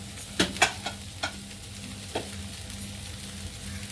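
Oil drizzled over a ragi dosa with grated carrot in a hot pan gives a steady, soft sizzle, with a few light clicks near the start and no voices.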